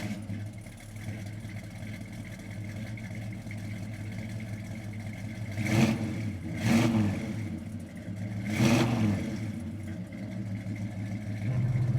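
A 1965 Chevrolet Impala SS with upgraded suspension cruising, its engine a steady mid-pitched drone with road rumble that swells through three brief revving surges near the middle and end.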